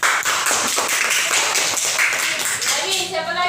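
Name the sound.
classroom applause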